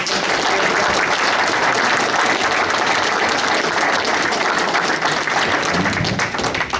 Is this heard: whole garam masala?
no